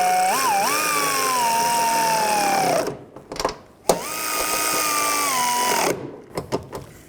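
A power tool runs in two sustained whining bursts while tightening strut nuts on a 2004-10 BMW X3 front strut assembly, its pitch sagging under load, with short metallic clicks and clanks between and after the runs.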